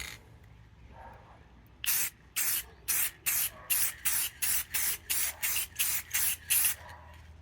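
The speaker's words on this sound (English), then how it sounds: "Time to spray it with clear." A spray can lays clear coat onto sanded resin eyes in about a dozen short, even hisses, each close and sharp, separated by brief pauses, with no talking.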